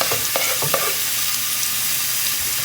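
Onion hits hot oil with sautéed garlic in a pan, giving a bright, steady sizzle close by, with a few scraping stirs early on and no talking.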